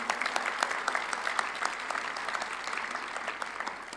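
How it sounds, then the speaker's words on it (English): Warm applause from a conference audience at an international education meeting, a steady dense patter of many hands clapping throughout, moderately loud and without talk. "We'd love to give them a warm round of applause"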